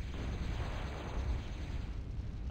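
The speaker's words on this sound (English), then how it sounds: "Did not expect that much explosion, but that was a lot of explosion." A large explosion in the real-time strategy game Zero-K, heard as a sustained low rumbling blast with a faint rolling tail, steady and unbroken with no voices over it.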